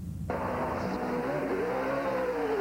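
Ryan Newman's NASCAR race car engine revs hard and steady after an abrupt start, a loud, continuous roar with a climbing pitch, close by and alone.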